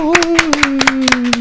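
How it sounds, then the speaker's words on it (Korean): In a talk show studio, a small group claps briskly to welcome an arriving guest, with sharp, close claps in a quick, uneven rhythm over a steady sustained tone. "큰 박수로 환영해 주십시오."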